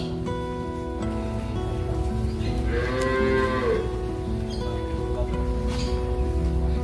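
A cow on a dairy farm gives one loud, drawn-out moo close by, rising and then fading, over steady low farmyard background noise.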